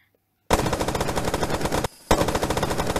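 Rapid video-game gunfire in a multiplayer match: a loud, dense burst of evenly spaced shots, a brief pause, then more fast shots, with no talking.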